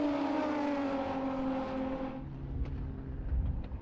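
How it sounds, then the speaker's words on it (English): Ford AU Falcon race car climbs a hill at Calder Park, its engine droning with a strained, steady pitch that slowly falls and fades as the car moves away, leaving a fainter mechanical rumble. "you can really hear that push coming up the hill, can't you, Darren, on the coverage?"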